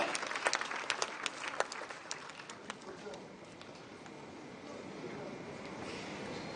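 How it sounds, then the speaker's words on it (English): An audience at a school cyber safety competition finale applauds, with crisp, dense clapping that peaks early, then thins and fades into a softer scattered patter and room murmur. "A big round of applause to all Kashish, Srinivas, Ram, Rajita and Janaya."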